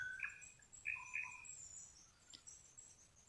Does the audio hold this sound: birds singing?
yes